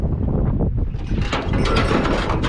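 Ratchet strap being cranked tight to hold down a truck carrying a 6.0 engine, giving dense repeated mechanical clicking and rattling, loud and close, continuing steadily with rising intensity in the second half.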